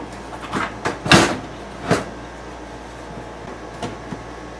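A computer power supply is pushed into a tight-fitting custom steampunk case, making a few close scraping clunks and one louder knock, followed by lighter taps.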